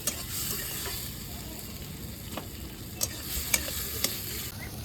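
Spice masala with ginger sizzles and fries in a pan, a steady crackling hiss broken by a few sharp scrapes of stirring, close and continuous with no talking.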